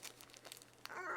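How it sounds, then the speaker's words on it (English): Plastic yarn bag being torn open by hand, a quiet close crinkle and rustle followed by a quick ripping tear at the end. "If I get my finger in here, rip it open."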